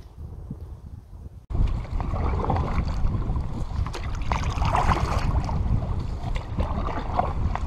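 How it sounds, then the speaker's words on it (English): Strong wind roars steadily across Ralph Bice Lake in Algonquin, buffeting the microphone with a loud, continuous rush after a brief quieter start. "the wind is in our face"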